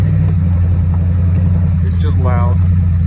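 Deep, constant engine roar from a loud pickup truck grinding up a hill through the woods, close and unbroken, with a brief voiced sound near the end riding over it.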